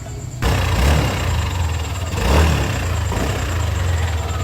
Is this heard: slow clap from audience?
no